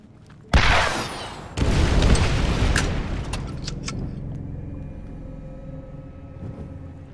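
In a Borderlands video game, ships explode: a sudden loud boom at the start, then a second heavy blast, each followed by a long rumbling decay and scattered smaller crackles.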